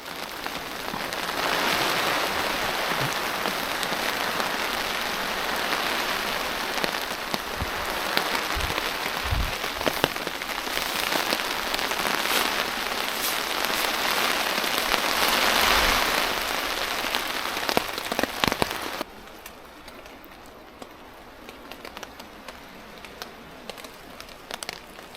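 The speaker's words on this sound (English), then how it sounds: "it is raining off and on" Rain pattering steadily on a tarp over a hammock camp at night during cold-weather solo bushcraft camping, a dense continuous patter that stops abruptly near the end, leaving a quiet background.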